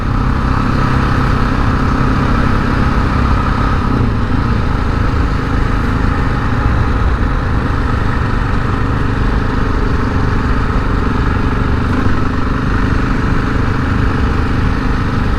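KTM 690 Enduro single-cylinder motorcycle carrying two riders off road on a bumpy trail, its engine a steady loud drone throughout with constant wind rumble and no talk.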